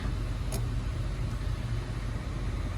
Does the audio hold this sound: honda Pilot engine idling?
yes